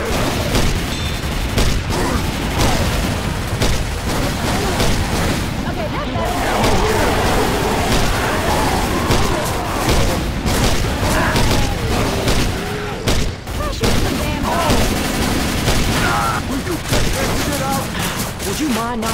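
Gunfire in the zombie shooter game Left 4 Dead 2, with dense rapid shots and booms that repeat throughout, mixed with loud game noise and overlapping voices of players talking.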